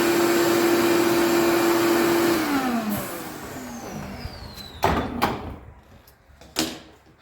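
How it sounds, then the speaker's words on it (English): A shop vacuum whines steadily while cleaning the dirty intake valley of an LS1 engine in a 1970 Buick, then winds down and cuts off, followed by a few sharp clunks and knocks nearby. "Okay, we need a vacuum."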